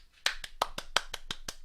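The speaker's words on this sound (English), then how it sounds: "Everybody clap." Sharp hand claps, about eight in an uneven burst, from a small group in a presentation or classroom setting, close and fairly loud with no talk.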